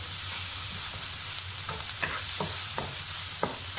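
Sambal frying in a pan, with a steady hiss of sizzling oil and a few sharp scrapes and taps of a spatula stirring, close and moderately quiet.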